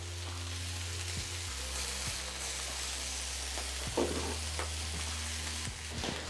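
Meat sears in a hot pan with a steady, dense sizzle and crackle that runs throughout, up close, with a low hum underneath and no talking.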